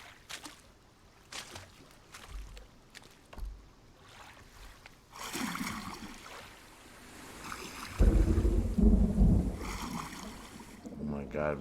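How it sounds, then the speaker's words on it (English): Stormy sea in the Arma 3 video game, with waves surging and wind rushing over the water, growing loud and rough in the second half, with voices talking over it. "Oh my god, man, it sounds pretty stormy to me."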